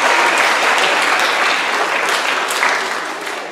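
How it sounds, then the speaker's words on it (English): Theater audience applauding at a live stage show, a dense, loud wash of clapping that holds steady for a few seconds before easing slightly at the end. "Give these two a big round of applause."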